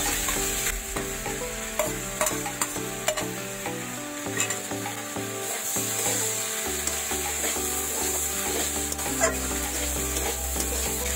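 Fried potatoes and liver are stirred into a pan of spiced oil with boiled raw jackfruit, sizzling steadily while a spatula scrapes and rubs under a faint musical backing.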